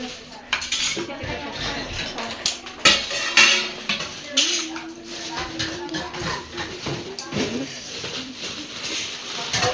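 Dishes and cutlery clinking and scraping during washing up at home, with irregular metallic clatters and knocks close by, voices talking over parts of it.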